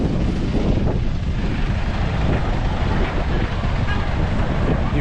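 Wind buffeting a microphone on a London walk near Southwark Cathedral, a loud, continuous rushing roar that fills the whole stretch without letting up.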